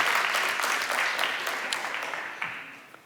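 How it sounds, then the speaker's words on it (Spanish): An audience applauds at a Spanish-language gathering, a dense wash of steady clapping that slowly thins and fades over about three seconds. "Damos un aplauso al Señor por Jairo."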